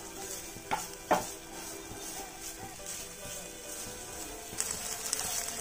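Mawa (khoya) is stirred and roasted in a pan, giving faint scraping and soft sizzling with a few sharper clinks of the spoon against the pan.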